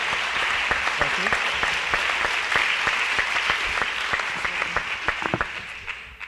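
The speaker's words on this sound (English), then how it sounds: "I think we owe them a round of applause first." Audience applause at an education panel session, with dense clapping that gradually thins into scattered individual claps toward the end; a voice briefly speaks over it.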